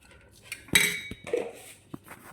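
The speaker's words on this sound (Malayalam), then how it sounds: "ഇത് സ്പൂൺ വെച്ച് ആദ്യം ഒന്ന് ആ ചൂട് തണുക്കുന്നത് വരെ സ്പൂണ് വെച്ച് കുഴച്ചതിന് ശേഷം" A spoon scraping and clinking against a bowl while stirring warm dough for a traditional snack seasoned with dry ginger powder, a few sharp close metallic knocks and scrapes in an otherwise quiet kitchen.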